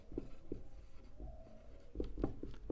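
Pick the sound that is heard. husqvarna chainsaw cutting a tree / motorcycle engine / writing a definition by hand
writing a definition by hand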